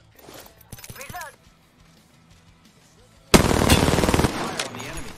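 Quiet voice callouts give way to a loud, close burst of rapid automatic gunfire in the battle royale video game Apex Legends, filling the final two seconds.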